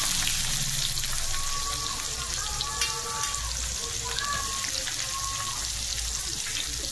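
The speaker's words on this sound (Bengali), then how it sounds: "পেঁয়াজটা ভাজা হতে হতে কালার হয়ে গেছে।" Chopped onion fries in hot oil with bay leaves, dried red chillies, whole garam masala and a little sugar, giving a steady, close, crackling sizzle that runs unbroken throughout.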